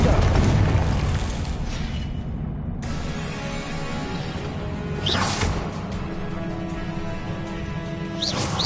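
Confringo explosive curse in Hogwarts Legacy bursting with heavy booms and whooshing magical sweeps, layered over continuous loud battle noise with a sudden sharp cut partway through.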